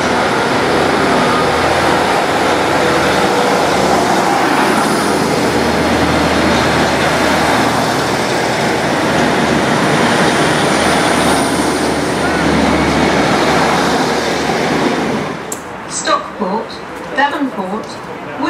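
A Southport to Manchester Victoria train pulls into platform one at a small West Yorkshire or Lancashire station, a loud, sustained rumbling roar that fades after about fifteen seconds, leaving a few quieter clanks and a brief voice.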